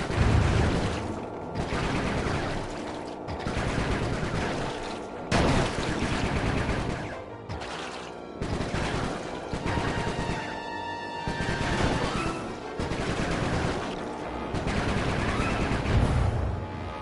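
Sustained automatic gunfire and dense fusillade from the Sly 3: Honour Among Thieves video game, loud and continuous with rattling bursts, brief pauses and booming hits, no talk over it.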